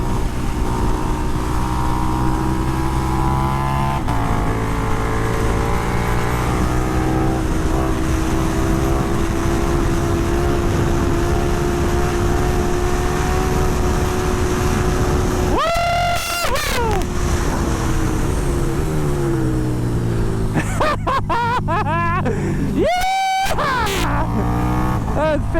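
A 2020 KTM 1290 Super Duke R roars on an onboard track lap, held in fifth gear down the start-finish straight on the back wheel. The loud engine drones steadily with wind, and its pitch sweeps sharply during gear changes later on.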